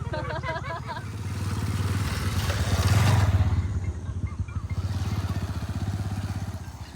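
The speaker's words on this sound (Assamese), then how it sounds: "আৰু এখন বাইক আহি আছে," A motorcycle engine drones closer along a dusty dirt village road and grows louder, then eases off, with a voice talking over the rumble.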